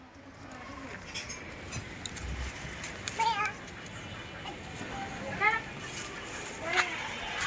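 A pet cat meows a few times at a home, short rising cries scattered among close-by chatter as a person talks and coaxes it, with one voice also imitating the meow.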